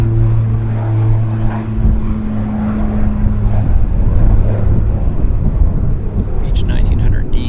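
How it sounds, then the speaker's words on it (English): A Beech 1900 cargo propeller plane taking off at Vancouver airport, a loud steady engine drone with droning low hum and wind buffeting, someone talking over it. "Looks like a Beech 1900. Oh, it's a cargo machine."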